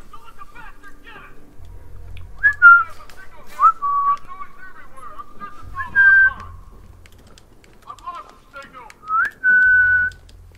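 Several short, pitch-bending whistles used to lure enemies in Batman Arkham Knight, in separate bursts over about ten seconds, with low thuds between them.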